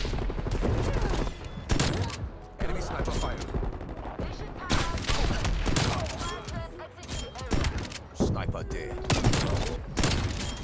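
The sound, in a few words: shotgun (.410 Ironhide) fire in video game Black Ops Cold War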